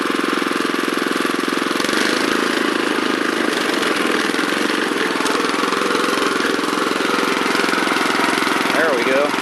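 A Honda FR600 tiller's small engine runs close by with choke on, holding a loud, steady, even drone throughout with a slight roughness in its rhythm.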